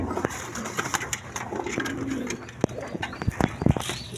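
A pair of Mosaldom pigeons, large birds kept for sale at a breeder's loft, coo softly in a few low, throaty calls. Sharp knocks and background clatter come and go around them.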